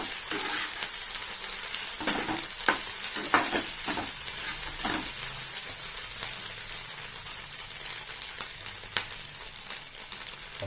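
A Telugu tempering of dry coconut powder, split gram, dried red chillies and spice mix fries in a pan with a steady close sizzle, broken by repeated scraping stirs and clinks of the spoon against the metal.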